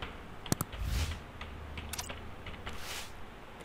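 Typing on a computer keyboard to enter text in Photoshop, a few quick close clicks of keys followed by softer scattered taps, faint and brief.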